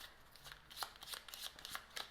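A deck of playing cards is handled during a tarot-style reading, with a card drawn in a quick series of soft, crisp flicks and slides, close and fairly quiet, with no talking.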